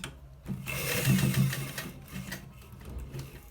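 A sewing machine stitches a shirt collar in a steady, fast mechanical whir that runs almost continuously, with short pauses at the start and near the end.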